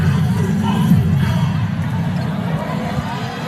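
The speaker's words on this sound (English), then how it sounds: "We hear the crowd now in the Phil Sports Arena." Arena crowd at the Phil Sports Arena during a SEA Games 2019 men's volleyball semifinal between the Philippines and Thailand, a steady dense roar of many voices with babble, loud and continuous throughout.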